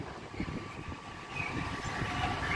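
A train passing through Doncaster station, a steady rumbling roll of wheels and engine that holds at a constant moderate level for a few seconds, with no voices.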